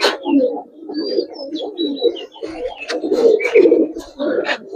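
Giribaz pigeons at a farm coo in soft, repeated low burbles throughout, with occasional higher chirps and faint background voices mixed in.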